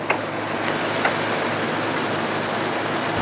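A 2019 Lexus RC300 F Sport's 2.0-liter turbocharged four-cylinder engine idles steadily under the hood, a close, even hum with a faint clack or two near the start.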